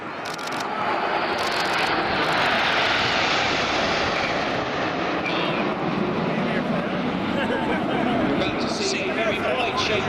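RAF Red Arrows display jets in formation at Airwaves Portrush 2014 roar loudly and continuously overhead, a broad steady jet-engine rush that swells and shifts as they pass, with a commentator talking throughout.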